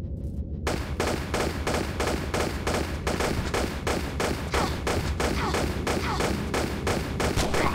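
Rapid pistol fire from Lara Croft in Tomb Raider Chronicles, a steady, evenly spaced run of loud sharp shots over a constant low game hum.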